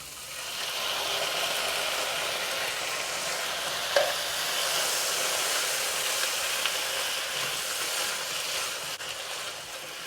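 A 400 g tin of chopped tomatoes sizzling and frying in a pan for spinach and bean shakshuka, a steady close hiss with a faint stir partway through, no talking.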